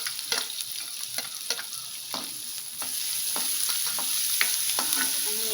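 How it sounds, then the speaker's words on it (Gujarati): Chopped onion frying in hot oil for a Gujarati tempering after cumin and asafoetida, with a steady close sizzle and repeated scrapes of a spoon stirring the pan, no voices. "ત્યારબાદ ડુંગળીનો વઘાર કરીશું"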